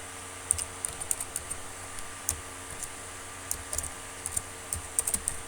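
Rapid keystrokes on a computer keyboard as Python code is entered, a quick run of soft, irregular clicks with short pauses, close and fairly quiet over a faint steady hum.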